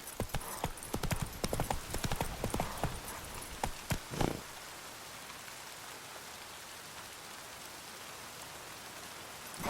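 Roach, Geralt's horse in The Witcher 3: Wild Hunt, trotting with quick, rhythmic hoof clops for about four seconds, ending in a louder burst, then only a soft, steady rain-like hiss remains.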